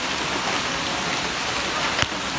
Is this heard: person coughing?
no